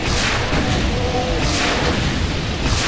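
Rocket explosions in the game Brutal Doom make a continuous, loud, rumbling roar of booming blasts that blur together, close and heavy throughout with no clear breaks.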